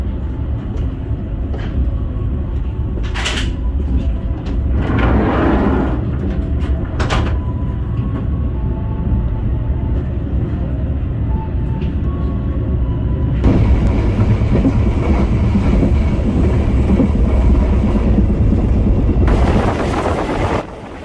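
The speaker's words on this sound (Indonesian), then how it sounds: "Stasiun Weleri juga menjadi pemberhentian reguler bagi kereta api Airlangga." Inside the Airlangga passenger train in Java, a steady loud rumble of the cars running on the rails fills the whole stretch, with occasional clunks and squeals, a surge in noise near the middle and a brief hiss near the end.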